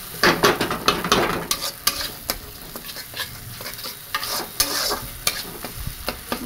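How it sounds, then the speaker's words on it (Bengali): Kashmiri chili powder and Kashmiri garam masala frying in hot oil, worked by a spatula: a constant sizzle sits under repeated sharp scrapes and clinks against the pan, close up, busier in the first two seconds. "মশলাটাকে ভালো করে কষাতে হবে যতক্ষণ তেল না ছাড়ছে"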